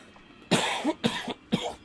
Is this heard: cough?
yes